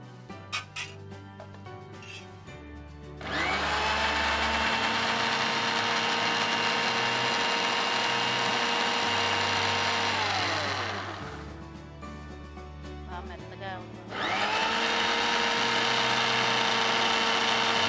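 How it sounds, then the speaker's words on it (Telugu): An electric mixer grinder whirs as it purees cooled spinach into a paste, a loud steady high-pitched motor whine running for several seconds, dipping briefly as it stops, then starting up again at full speed. "మిక్సీలో వేసేద్దాం."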